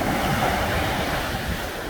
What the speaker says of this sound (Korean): 파도 치는 모습을 촬영해 보도록 하겠습니다